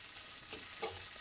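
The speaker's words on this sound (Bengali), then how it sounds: "এবার একটু হালকা নাড়াচাড়া করে" Diced capsicum and onion with green chillies stirred gently as they fry in a pan, a quiet continuous sizzle with two soft scraping strokes of a spatula.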